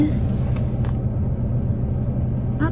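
Low, steady rumble inside a car on a drive to the shops, a continuous droning hum filling the whole moment, with a faint higher whine and light clicks early on.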